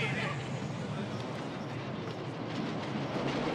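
A train rumbling past with a steady rolling roar and faint wheel clatter, voices blending in under the noise.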